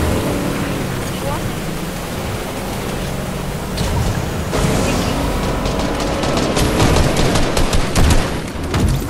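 Gunfire in Fortnite, a steady, dense wash of loud shots and bursts that builds toward the end, with a voice talking now and then over the game noise.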